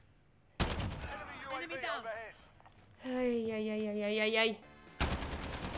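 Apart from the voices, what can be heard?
gunfire in a video game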